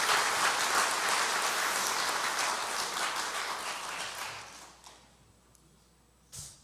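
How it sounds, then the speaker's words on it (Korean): A church congregation applauds steadily for several seconds during a Sunday service, the clapping gradually thinning and fading out, followed by a brief thump. "박수 한번 할까요?"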